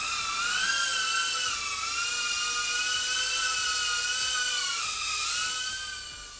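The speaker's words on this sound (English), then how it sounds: "Let's take this one out for a flight." An FPV drone lifts off for a flight: a loud, close, high-pitched motor whine that holds steady, wavers in pitch as the throttle shifts, and eases off slightly at the end.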